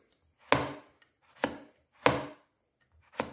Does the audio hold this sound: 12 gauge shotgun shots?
no